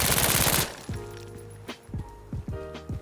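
Rifle gunfire in the shooter game Insurgency: Sandstorm: a loud, rapid automatic burst at the start, then several sharp single reports with metallic ringing clinks between them, no voices.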